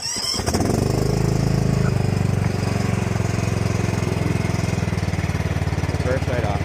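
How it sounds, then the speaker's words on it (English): A John Deere X350 lawn tractor engine starts and then runs steadily, a loud, close, continuous rumbling drone that holds level for several seconds. "I will go ahead, hop on the tractor."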